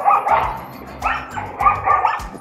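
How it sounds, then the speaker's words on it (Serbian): Dogs bark and snarl in a scuffle in the village of Ledinci on Fruška Gora, several sharp, close bursts of barking and yipping in quick succession. "psi se svađaju."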